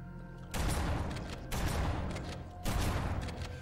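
Grenades lying on the ground in Halo: Combat Evolved blow up when shot, giving three loud blasts in a row, each with a broad rumbling tail and no talk.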